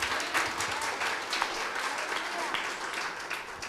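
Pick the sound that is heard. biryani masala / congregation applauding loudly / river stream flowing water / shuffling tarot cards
congregation applauding loudly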